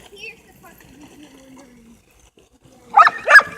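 A dog barks at an RC car with two sharp, close barks in quick succession near the end, after a quiet stretch with a faint whining tone.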